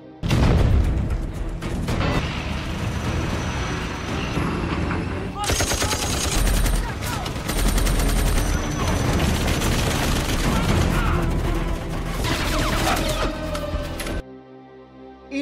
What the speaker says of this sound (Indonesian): Kedua pasukan saling melepaskan tembakan.